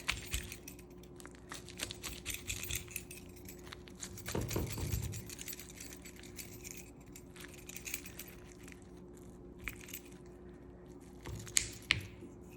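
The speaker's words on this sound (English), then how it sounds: "I'm gonna go ahead and cut on in through all that lasagna sheet and that cheese." A utensil cuts down through a baked pot pie lasagna with pasta sheets and melted cheese, making a soft squelch near the middle among light clinks and scrapes at close range, with no talking.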